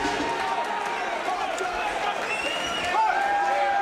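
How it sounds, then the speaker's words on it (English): A boxing crowd of supporters cheers for Justin Trudeau during his bout against Patrick Brazeau, a steady roar of voices and shouting that fills the hall throughout, with an announcer talking over it. "there's the Trudeau camp cheering on their man"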